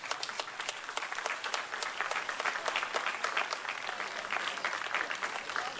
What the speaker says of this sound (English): So everybody's clapping for her,